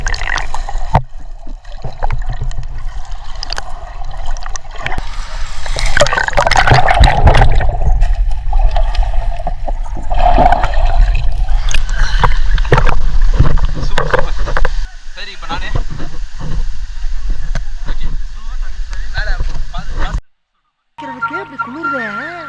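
Rushing water at Lakkom waterfall in Munnar, Kerala, where people are bathing: a constant loud roar and splash runs throughout under frequent talking, then cuts out abruptly near the end.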